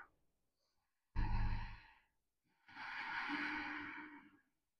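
Ujjayi breathing during an Ashtanga yoga routine comes as two audible breaths through a constricted throat: a short, strong rush, then after a pause a longer, even, ocean-like breath.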